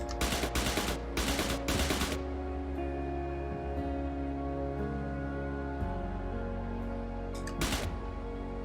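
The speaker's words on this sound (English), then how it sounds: "Look, there's wing mounted machine guns too" Wing-mounted machine guns on a fighter plane in IL-2 Sturmovik, firing several loud rapid bursts early on and another short burst near the end, over a steady engine drone.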